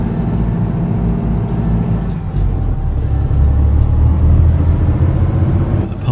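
Truck traffic passing on a road in a driving video game, a loud steady engine rumble and whir with a sharp hiss of air brakes partway through, no voices.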